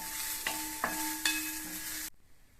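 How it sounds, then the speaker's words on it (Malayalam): Little millet upma sizzles in a pan as it is sautéed, with a few sharp spatula knocks against the pan over the steady frying hiss before it cuts off abruptly. "നന്നായി വഴറ്റാം."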